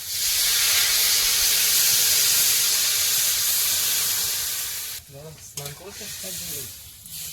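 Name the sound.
water added to fried curry in a hot pan, sizzling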